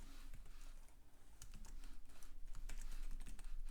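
Rapid clicking keystrokes on a computer keyboard patter in quick, uneven bursts, close and fairly soft, with no talking.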